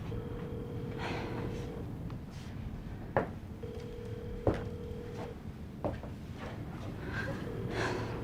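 A telephone ringing unanswered in a home: a steady electronic ring tone repeating in long bursts with gaps, moderately loud, alongside occasional sharp knocks and faint breathing noises.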